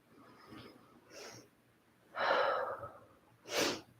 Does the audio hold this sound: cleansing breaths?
yes